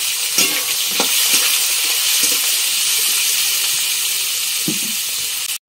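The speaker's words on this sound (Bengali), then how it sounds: "এবার আমি পেঁয়াজ আর আলু দুটো দিয়ে একসঙ্গে ভেজে নেব।" Potatoes and onions fry together in a pan of hot oil with cumin and bay leaf, giving a steady, loud sizzling hiss with occasional stirring clatters throughout, cut off abruptly at the end.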